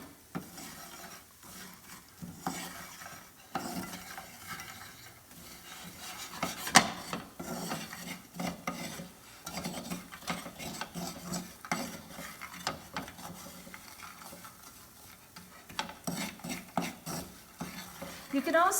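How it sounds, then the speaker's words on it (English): Almonds being tossed and stirred in caramelizing sugar syrup in a pan, a gritty scraping and rubbing texture with soft sizzle underneath, quiet and continuous with intermittent louder scrapes. "we'll keep tossing the almonds in the syrup"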